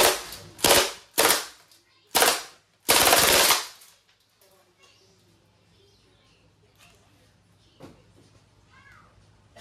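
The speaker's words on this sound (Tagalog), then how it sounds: "Full automatic. Firing." A Crosman MPW Bushmaster airgun fires on full automatic in several sharp, loud bursts of rapid cracking shots close to the listener, then stops, leaving quiet handling clicks and small background sounds.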